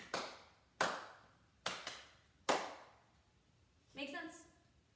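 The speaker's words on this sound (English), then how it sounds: "Step, double clap, step, clap" Hand claps in a dance-step pattern, a double clap and then a single clap, land as sharp close slaps with short gaps between them. A brief voiced sound follows at the end.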